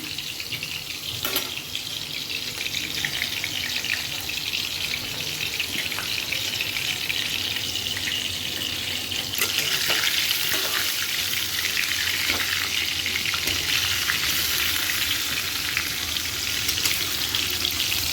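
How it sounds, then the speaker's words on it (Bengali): Cauliflower and potato pieces fry in a pan with a steady, close, fairly loud sizzle that holds for the whole stretch and grows slightly denser partway through. Nobody speaks. "ফুলকপি আলু ভেজে নিই, সব রেডি করে রেখেছি আমি।"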